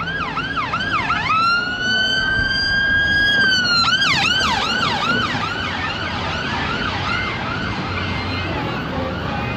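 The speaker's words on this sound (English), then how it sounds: "you always know when you're quite busy when the ambulance is on the tram line" A loud ambulance siren wails nearby on a tram line in Blackpool, its rising and falling tone sweeping repeatedly, briefly shifting to a long steady pitch before resuming the cycling wail.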